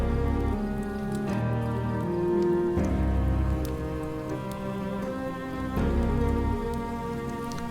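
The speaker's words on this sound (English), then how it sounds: "Of course, it's now raining." Steady rain falling on surfaces in the video game Project Zomboid, a constant hiss under a low continuous tonal layer of game audio throughout, no talking.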